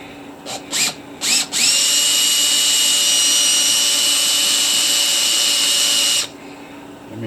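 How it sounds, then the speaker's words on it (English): An electric drill with a masonry bit bores into a fossil crab concretion, a few short revving bursts followed by a steady loud high whine for about five seconds before stopping. "I've got a masonry bit"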